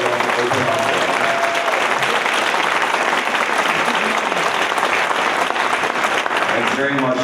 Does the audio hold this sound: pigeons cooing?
no